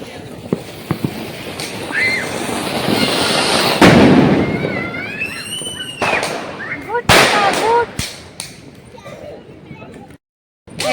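Diwali firecrackers burst during a street celebration in Mumbai, with several sharp, loud bangs and pops, some whistling and crackling, and excited voices talking and shouting nearby.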